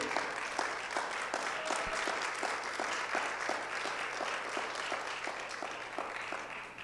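Congregation clapping during a Spanish-language church service, a sustained, even wash of many hands at moderate distance with a faint steady hum underneath and no clear voices.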